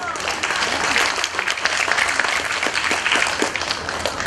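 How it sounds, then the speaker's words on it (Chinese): Audience applause welcoming a performer at a classical Chinese poetry chanting society event, sustained dense clapping from a crowd filling the hall throughout. "掌声欢迎"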